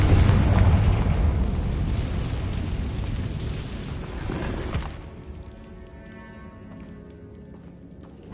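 A Confringo blasting spell explodes in the video game Hogwarts Legacy: a loud, roaring burst that rumbles for several seconds, then drops away abruptly into a quieter, fading tail.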